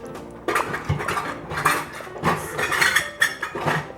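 Dishes and a measuring cup clink and clatter in a home kitchen during chili prep, a run of close, irregular knocks and chinks spread across several seconds with no talking.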